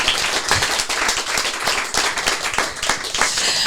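A small audience gives a warm round of applause for author and illustrator Miguel Brieva at a book presentation, with close, dense clapping throughout.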